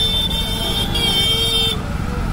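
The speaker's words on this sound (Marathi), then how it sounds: "ट्रॅफिक फुल जाम झालं" Car horns honk in a jammed road traffic scene heard from a motorcycle, with a steady low vehicle rumble and a sustained high horn tone that cuts off near the end.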